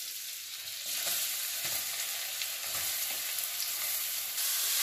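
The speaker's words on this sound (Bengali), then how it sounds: "এর মধ্যে আমি দিয়ে দিচ্ছি আগে থেকে গ্রেট করে রাখা গাজর।" Grated carrot frying in hot ghee, a steady soft sizzle with faint stirring scrapes that swells slightly partway through, and no voices.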